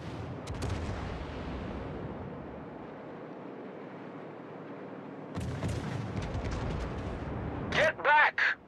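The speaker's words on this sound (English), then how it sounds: "All stations, concentrate fire on the target." Naval gunfire in World of Warships, a sustained roar of shelling and rumble that cuts out briefly, then resumes with sharp blasts and a few loud, close booms near the end.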